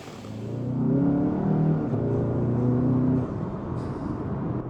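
A VW GLI engine fitted with a loud APR PEX intake revs up and holds a steady, droning note for a few seconds, then eases back to a lower hum, heard close and fairly loud.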